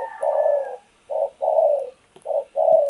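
Breeding decoy turtle doves coo in their cage, a close, clear run of five low cooing phrases, each about half a second long, separated by brief pauses.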